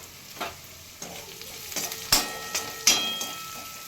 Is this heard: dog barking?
no